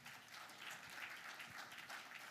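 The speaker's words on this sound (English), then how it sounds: "Give him a round of applause." Steady applause from a live audience greeting a presenter coming to the stage at an evening lightning-talks event, a dense continuous patter of clapping with no voices over it.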